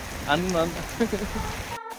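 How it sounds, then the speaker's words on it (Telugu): Heavy rain suddenly pouring down outdoors, a steady broadband hiss running through the whole clip beneath a talking voice. "సడన్గా ఆల్మోస్ట్ ఫుల్ వర్షం పడుతుంది"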